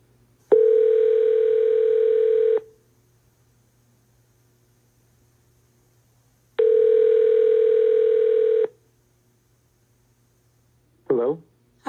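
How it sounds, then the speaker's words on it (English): A telephone dial tone sounds in two steady two-second bursts separated by silence, clear and close, followed by a short faint voice-like sound at the end. "We're dialing him up now."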